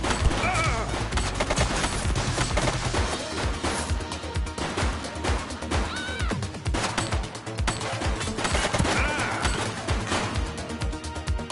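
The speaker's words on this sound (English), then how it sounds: "She's shooting!" Repeated gunshots from a person shooting in a police confrontation. Close cracks land in quick succession throughout, mixed with loud scoring and general commotion.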